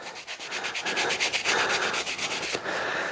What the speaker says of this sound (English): we're just going to scrub these down. I'm not going to be able to get to this coloration out of them now, but as long as we can get the rust off